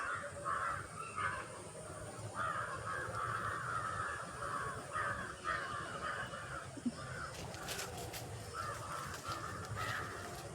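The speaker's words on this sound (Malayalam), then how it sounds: "കുറച്ച് കാക്കകളൊക്കെ പറന്നു പോകുന്നു" Crows caw repeatedly in overlapping bursts as they fly away, over a steady outdoor hum, with a few sharp clicks near the end.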